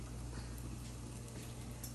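Hash browns fry in butter and oil in a wok with a steady, even sizzle that continues without a break, moderately close and alone.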